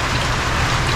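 Steady rain falling during a fishing trip for bisugo, a dense continuous hiss with no break across the whole short moment and no voices.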